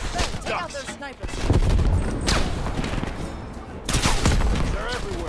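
Gunfire aimed at rooftop snipers in the video game Call of Duty: Black Ops Cold War, with dense bursts of rifle fire and loud crashing impacts rolling on continuously, and shouted voices mixed into the battle.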